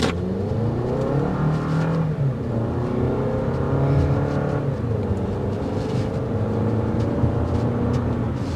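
A 2024 Toyota RAV4 XLE SUV with 203 horsepower accelerates hard on a test drive, its engine note climbing steadily through two rising sweeps, loud and close, with no talking.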